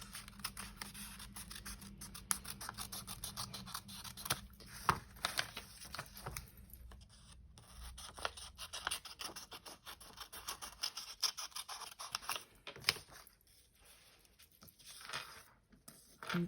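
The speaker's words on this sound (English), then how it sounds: "Let's just trim this edge off." Scissors trimming the edge of a paper journal page, a steady series of close, crisp snips and cutting scratches with short pauses, fairly quiet and with no talking.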